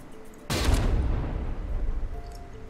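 A CRAM cannon fires high-explosive shells at thick layered armour in the game From The Depths: one sudden heavy boom after a quiet start, then a long rumbling roar of impacts that slowly fades.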